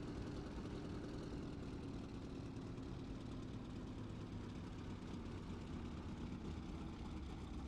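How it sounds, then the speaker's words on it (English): A Vought F4U-1D Corsair's big radial piston engine idles in a flight simulator, a steady, smooth low rumble with a constant propeller drone throughout and no talking. "Freedom from vibration is a good indication that the big engine is functioning properly."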